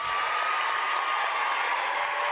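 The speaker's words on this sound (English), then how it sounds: "Just one more big applause for me." A conference audience at a leadership summit gives a big round of applause, dense steady clapping filling the room throughout, with no voices over it.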